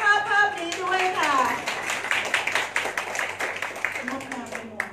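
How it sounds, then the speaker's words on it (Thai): Guests clap at a Thai wedding procession during the khan maak exchange, a lively burst of applause mixed with someone talking over a microphone and crowd voices throughout. "ขอเสียงปรบมือดังๆให้กับภาพนี้ด้วยค่ะ"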